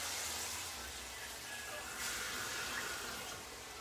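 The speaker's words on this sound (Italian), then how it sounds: "Allora, aggiungiamo l'acqua," Water runs into a cooking pot for a fish soup of gurnard, sardines, shrimp and cuttlefish, making a soft, steady hiss and pour that lasts several seconds at low volume.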